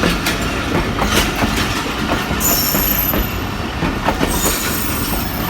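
A train rolls past nearby in Pakistan during the rainy season with steady rumbling, rhythmic wheel clacks and brief high metallic squeals, continuous throughout.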